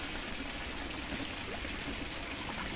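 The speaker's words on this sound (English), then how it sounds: "if you hear on my screen, you can actually hear the water fountain" A water fountain in a fantasy online role-playing game splashes and trickles in a steady, continuous wash that stays even throughout, with no voices over it.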